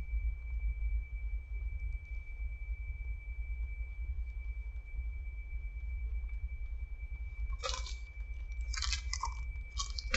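A crunchy Hostess triple chocolate Kazbar snack cake is chewed close by, with bursts of crisp crunching near the end over a steady low rumble and a faint constant tone.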